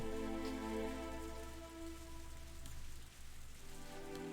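Steady rain patters softly and continuously in the Higurashi visual novel game, blended with sustained, gentle background music tones and no voices.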